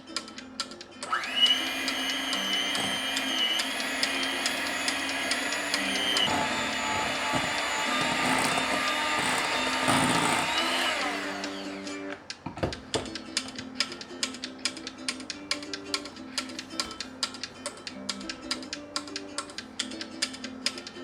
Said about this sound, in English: Combine them together and mix with the hand mixer.